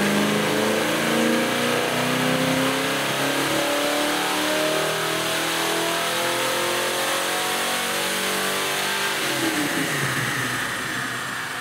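383 cubic inch car engine revving hard on a dyno, a loud sustained climbing roar that holds high for several seconds, then drops away near the end.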